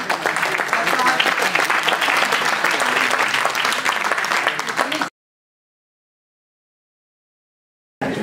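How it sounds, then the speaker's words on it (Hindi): Loud, dense applause from an audience welcoming a poet to the stage at the Poetic Adda 2022 poetry event, sustained steadily for about five seconds before cutting to silence, then briefly resuming at the end. "आइए जोरदार तालियों के बीच में भाई आनंद श्रीवास्तव का स्वागत कीजिए"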